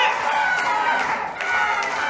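A wrestling crowd at a New South Wrestling show cheers and roars in a steady, dense wash of noise that dips briefly before swelling again.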